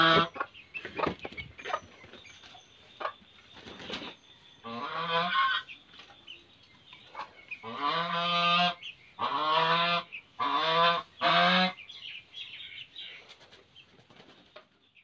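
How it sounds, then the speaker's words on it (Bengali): Chickens call loudly from an enclosure in the early morning before being let out, with harsh, honking cries in bursts that grow longer and louder toward the middle, mixed with brief wing flaps and no talk. "মুরগিগুলো এখনো সকালবেলা ছাড়া হয়নি, তো ডাক শুনতেই পারছেন যে চিৎকার করে ডাকছে।"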